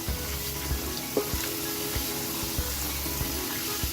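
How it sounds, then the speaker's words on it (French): Potatoes rinsed in a colander under a running kitchen tap, a steady rush of water with soft knocks and rattles of the potatoes, close and even throughout. "Et après je rince. Et une fois rincé, je vais égoutter"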